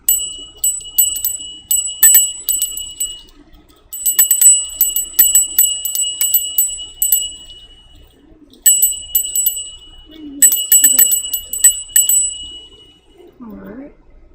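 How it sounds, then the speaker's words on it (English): A small bell is struck repeatedly in bursts, used for clearing the energy of a room; bright ringing tones come in rhythmic clusters with pauses between them, and a voice speaks briefly near the end. "We're going to do the bell though."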